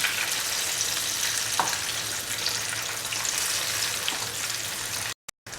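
Mango fritters fry in a pan of oil, a dense, even sizzle that crackles on without pause at close range before cutting out briefly at the very end; nobody talks.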